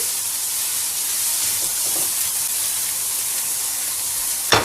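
Chopped ginger and garlic sizzling in a hot pan over medium to high flame, a steady bright frying hiss that runs evenly throughout with a short spike at the very end.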